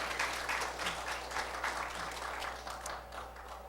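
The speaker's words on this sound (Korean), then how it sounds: "우리 할렐루야 찬양단 위해서 다시 한번 우리 박수로 격려하겠습니다" A church congregation applauds a choir, a brief burst of many hands clapping in a room, fairly loud and even, with a low steady hum underneath.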